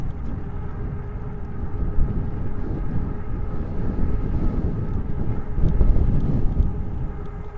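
Wind roars across the microphone while riding an electric bike, a steady low rumble that fills the whole stretch and swells slightly near the end.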